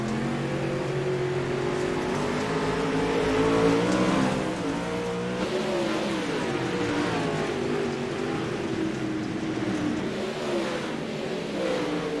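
Pro late model stock cars roaring around the Lernerville Speedway oval, several engines revving and droning together at a steady loud pitch that rises and falls as the pack passes, with a faint crowd-like wash behind.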